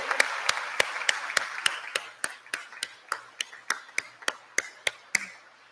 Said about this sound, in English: give them a huge applause and thank you